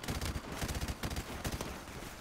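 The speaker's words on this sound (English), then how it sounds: "I'm literally shooting blind." Rapid automatic gunfire from the video game Call of Duty Modern Warfare Remastered fills the short stretch with dense, continuous bursts at steady loudness and no pause.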